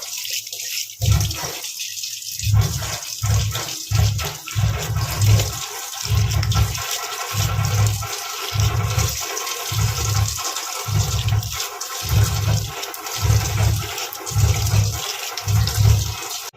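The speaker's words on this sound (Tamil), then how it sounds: "இப்போ நான் ஃபேஸை வந்து வாஷ் பண்ணிட்டு கொண்டு வந்து காட்டுறேன்" Running tap water splashing steadily while a face is washed, with a rhythmic series of cupped-hand splashes and gurgles, close and fairly loud.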